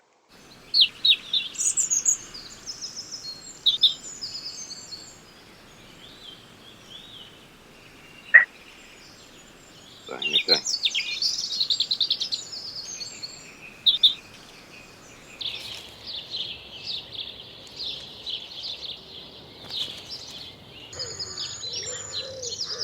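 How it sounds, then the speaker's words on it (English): Robin and blackbird song from a recorded dawn chorus comes as scattered bright chirps and warbling phrases at moderate distance, broken by brief pauses over a quiet background. Near the start a voice briefly says a single word. "Can we hear the robin and the blackbird?"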